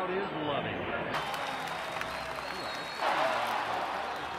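A sports crowd cheers and applauds in a dense, steady roar that fills the whole stretch, with a brief swell near the end. It sits under a broadcast.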